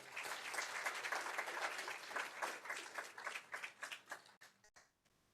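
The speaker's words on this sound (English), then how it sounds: "Round of applause for Linda." A round of applause at a school board meeting in honour of a long-serving staff member, many hands clapping steadily for several seconds before thinning into scattered claps and fading out.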